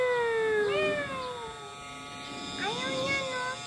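A cat at an agricultural eco park gives two drawn-out meows, the first near the start and another later, fairly close.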